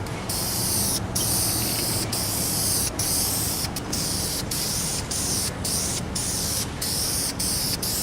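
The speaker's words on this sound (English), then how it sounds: "I'm now finishing this table with several coats of spray lacquer" A steady, hissing spray of lacquer from a spray can runs almost continuously over a poplar table, broken by several short pauses as the nozzle is released and pressed again.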